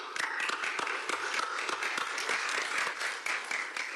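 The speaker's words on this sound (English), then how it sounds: "may we give them a round of applause." Attendees at an African Union ceremony on an Ethiopian cessation-of-hostilities agreement give a round of applause, a few seconds of scattered, distinct claps from a modest crowd, fairly faint and slightly distant.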